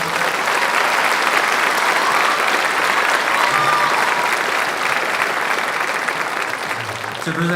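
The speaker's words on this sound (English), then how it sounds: "Let's give them another round of applause" An audience at a school honors night claps in sustained, loud applause that fills the room evenly before tapering slightly at the end.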